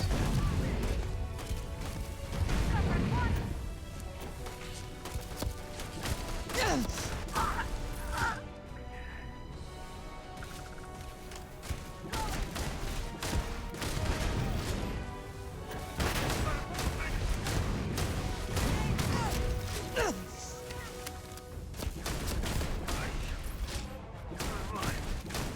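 Gunfire rings out during a Starfield firefight, with repeated sharp shots, crashes and impacts scattered in irregular bursts over a bed of game noise, and voices occasionally speak between them.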